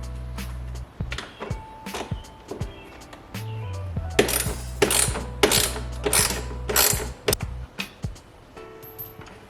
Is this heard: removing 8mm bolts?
yes